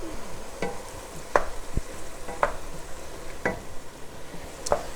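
Ground meat for a bolognese sizzles steadily in a pan, its soft continuous frying hiss broken by several sharp scrapes and knocks as a utensil breaks up the meat.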